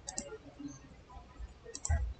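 Typing a CAD command on a computer keyboard, a quiet scattering of soft key clicks at uneven intervals with a couple of heavier taps near the end, close and faint.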